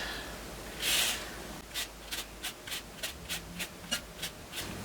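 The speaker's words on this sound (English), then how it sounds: "you want to be careful when you're zesting this to only get the lemon peel" A lemon peel being zested makes a soft, close rasping scrape: one longer stroke, then about ten short, evenly spaced strokes in a steady rhythm.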